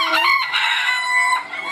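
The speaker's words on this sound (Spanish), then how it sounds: "Gallos allá." Roosters crow and cluck in a yard full of fighting cocks in Mochitlán, loud and close, with one long crow and overlapping calls from several birds and no talk.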